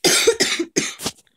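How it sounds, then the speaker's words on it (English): A person coughs hard several times in quick succession, a burst of harsh, close coughs with short gaps, loud and dry, ending in a faint trailing breath. "bad cough"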